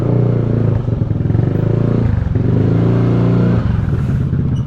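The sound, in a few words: motorcycle engine idling and revving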